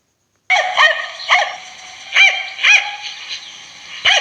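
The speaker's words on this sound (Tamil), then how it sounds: "அந்த நாயை கல்லை விட்டு எரிஞ்சிட்டான் அந்த நாயை கத்திக்கிட்டே ஓடிட்டு இருந்துச்சு" A cartoon dog yelps and whimpers in repeated sharp cries, about half a dozen pained yips spaced irregularly, close and clear with no talking.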